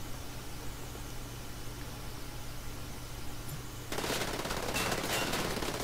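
Gunfire in the video game Wolfenstein: The New Order, with a sustained rattling burst that starts suddenly partway through and stays loud over a steady background hum.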